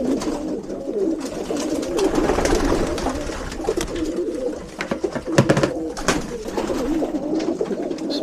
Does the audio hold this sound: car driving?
no